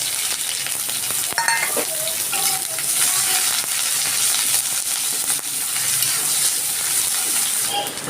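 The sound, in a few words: frying red chili, garlic and onion in a pan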